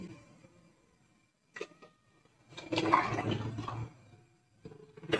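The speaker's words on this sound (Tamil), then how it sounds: "ஒரு 1 லிட்டர் தண்ணி." About a litre of water pours into a pot in a steady gushing stream for about a second, preceded and followed by brief splashes and clatter, close by.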